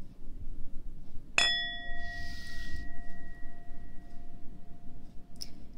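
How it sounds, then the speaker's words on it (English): A mindfulness bell is struck once at the start of a meditation exercise, a bright metallic strike followed by a clear tone that rings on and slowly fades over several seconds in a quiet room. "I will ring the bell at the start and the end."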